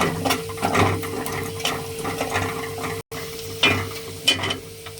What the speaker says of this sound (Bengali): কাঁচামরিচ সহ একটু ভাজবো।